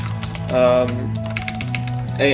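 Computer keyboard keys are tapped in a quick run during a StarCraft Remastered game, with Shift and F keys used as camera hotkeys. The clicks are light and close and sit among game tones and music.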